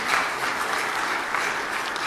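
Sustained audience applause after a talk on Angola's public debt and budget: dense, even clapping from a crowd, loud and continuous throughout.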